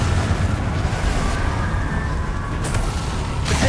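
Confringo fire spell blasts in Hogwarts Legacy combat, a dense continuous roar of explosive game effects with a whooshing burst near the end, loud and without speech.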